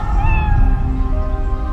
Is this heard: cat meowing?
yes